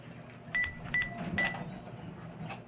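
A telephone is dialed to make a call, with three short, faint keypad beeps spaced evenly over a quiet background.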